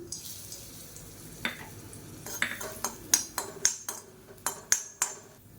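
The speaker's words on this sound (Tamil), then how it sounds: "இப்போ அதே கடாயில் ஒரு அஞ்சாறு துண்டு கட்டி பெருங்காயம் பொரிய விட்டு எடுத்துக்கலாம்" Lumps of asafoetida fry in oil in a kadai with a quiet background sizzle, punctuated by a series of sharp metallic clinks and taps from a ladle against the pan, about eight distinct hits in the last few seconds.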